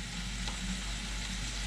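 Čevapi sizzle in a layer of olive oil, a soft steady frying crackle, fairly quiet and continuous, with a brief louder clatter at the very end.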